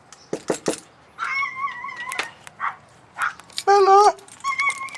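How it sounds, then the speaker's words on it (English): A small dog yips and barks in short sharp bursts near the listener, mixed with high whining cries; a person speaks between the sounds. "here's the little dog."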